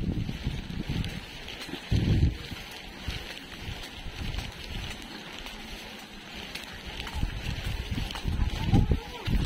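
Gusting signal number 5 typhoon wind over flooded Dinahican roars and buffets the microphone, swelling in heavy bursts near the start and end, while a person talks faintly beneath the din.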